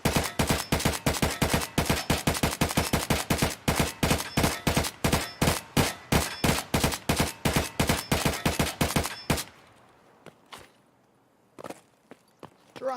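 Rapid automatic Vepr rifle fire in Escape From Tarkov, a long fast burst of sharp regular shots for about nine seconds, then a pause with a few scattered single shots and faint movement.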